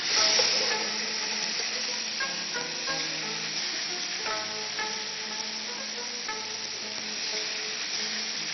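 Korean galbi short ribs sizzle on a grill, a steady close frying hiss with bursts of crackling and popping that continue throughout, with no voices.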